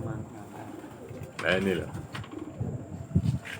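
Pigeons coo softly in a loft of champion racing birds near Yogyakarta, a few low rounded calls rising over background chatter while someone speaks briefly close by.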